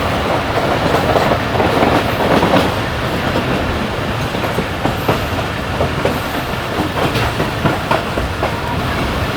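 The Karachi Express rolls along the rails in Sindh with a steady clickety-clack of wheels over joints and a loud, continuous rumble, heard close from on board with no talking.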